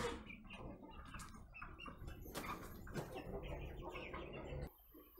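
Chickens in a coop with feeders make faint, scattered clucks and soft chirping calls. Light pattering and rustling run alongside them before things go quiet near the end.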